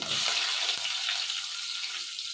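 Garlic, curry leaves and onion frying in oil for a Malenadu-style radish sambar, a steady close sizzle with faint stirring scrapes, no voices.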